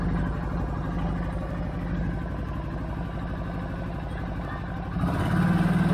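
A 2013 CFMOTO Z6 engine runs at low RPM, a steady mid-pitched idle drone heard close, growing slightly louder and rougher near the end.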